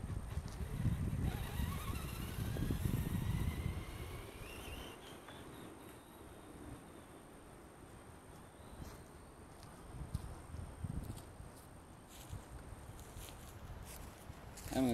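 A Traxxas Bigfoot RC monster truck races outdoors. A rumbling rush and a rising electric motor whine are loud at first, then fade into quieter, distant running with faint crunches.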